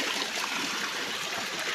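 Water in a cold mountain stream rushes steadily over rocks, a dense, continuous burbling hiss at close range with no voices.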